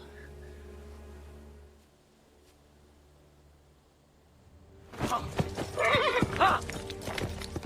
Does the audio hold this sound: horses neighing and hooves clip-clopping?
yes